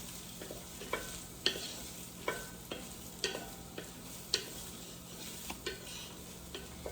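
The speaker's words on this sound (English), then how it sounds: "So we're gonna give that a good stir." One-pot spaghetti alla vodka stirred in a pot, rhythmic scraping clicks of a utensil against the pot over a soft, steady simmering sizzle, close and quiet.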